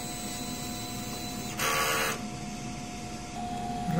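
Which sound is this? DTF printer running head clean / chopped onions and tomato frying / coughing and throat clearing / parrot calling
DTF printer running head clean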